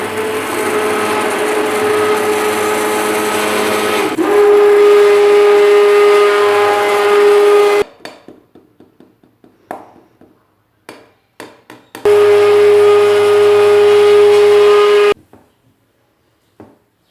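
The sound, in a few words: hand blender mixing batter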